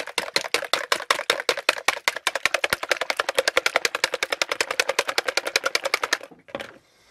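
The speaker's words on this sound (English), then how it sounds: "Give it a good whisk." Eggs for egg foo young are whisked briskly in a bowl, giving a fast, even run of close, sharp clicks that stops abruptly after about six seconds.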